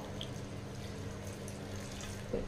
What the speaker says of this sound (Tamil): வெல்லம் மூழ்கிற அளவுக்கு தண்ணி சேர்த்திக்கலாம்.